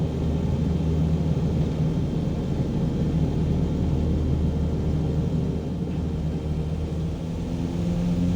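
A plane taking off from a nearby airfield during a coastal flight near Berwick upon Tweed, heard as a steady low engine rumble with wind-like noise, even and continuous throughout.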